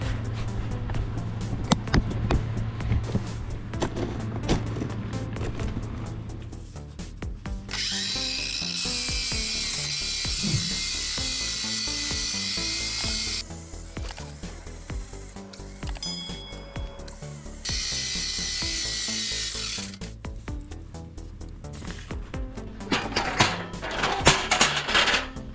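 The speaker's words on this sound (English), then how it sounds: "So let's get grinding." A power grinder works on fiberglass and polyester layers in the cold. Bursts of loud, high abrasive whine start and stop over a rumbling background, close to the microphone.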